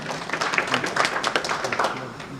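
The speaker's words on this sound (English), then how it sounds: "Let's give a clap for appreciating their coming." An audience at a RVTTI technology and innovation international conference claps in appreciation of partners, a steady patter of many hands at moderate volume with a voice speaking over it.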